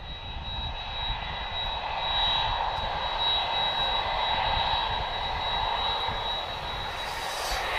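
American Airlines Boeing 767 jet engines at Lisbon Airport, a steady broad roar holding loud and even throughout, with a faint high whine riding above, no voices.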